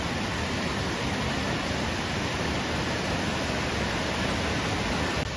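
Cork waterfall in Ireland, swollen after a day of heavy rain, pours in a loud, steady, close roar of falling water with no voices.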